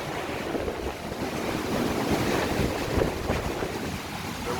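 Super Typhoon Noru in Danang, Vietnam, with a constant roar of heavy wind and surging water, mixed with microphone wind buffeting and no voices.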